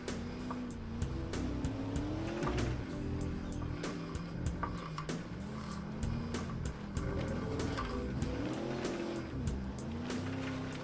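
A big engine in an 80s off-road utility vehicle on off-road tyres, driven over dirt in a racing game, drones loudly and continuously, its pitch climbing and falling through turns, with tyre squeal and skids mixed in.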